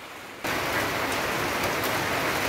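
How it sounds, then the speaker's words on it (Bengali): Rain drums on a tin roof in a village, a dense steady patter that starts abruptly after a brief quiet moment and stays loud and even throughout. "টিনের চালে বৃষ্টির শব্দ"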